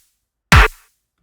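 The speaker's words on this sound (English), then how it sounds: "And with the clap added in, it sounds like this." A single electronic kick drum hit with a sharp clap layered on top, a deep thump and bright snap together, then quick decay into silence.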